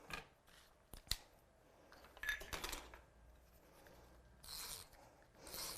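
Scissors snip through the legs of a paper stencil at close range, several quick sharp cuts and faint paper rustles scattered across the moment, quiet and with no voices.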